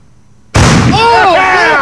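A carbide cannon fires once, a sharp loud boom after brief quiet, followed by a ringing, whistling tail that lingers at close range during a July Fourth celebration.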